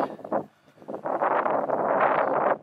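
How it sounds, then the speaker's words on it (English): Steady, loud wind on a mountain pass on the John Muir Trail gusting across a microphone, a broad roaring rush that dips briefly then holds strong, no voices. "A little windy."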